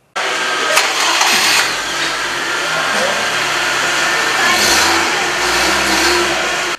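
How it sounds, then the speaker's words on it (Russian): A passenger car engine runs steadily on a display stand, a continuous loud mechanical drone with a slight rise in revs partway through, heard alone. "Стенд с действующим двигателем легкового автомобиля."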